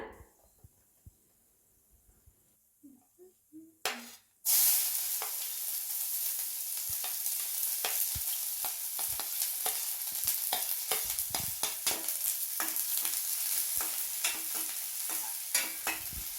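Sliced onions dropped into hot oil with crackling mustard seeds, beginning with a few soft pops before a sudden loud sizzle that settles into steady, close frying with scattered crackles throughout.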